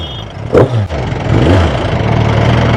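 A motorcycle engine idles at a traffic signal, a steady low rumble heard close by with a brief louder burst near the start and ongoing road noise around it.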